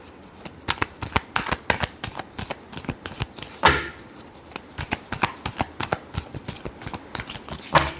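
Tarot cards are shuffled by hand in a quiet room, a close run of crisp riffling bursts and soft slaps coming in an uneven rhythm, with one longer riffle partway through.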